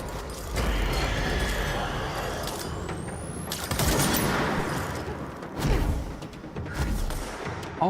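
Sniper gunfire strikes the player in the video game Control, a few spaced heavy impacts and whooshes amid a dense, noisy game soundscape of thumps and mechanical clatter.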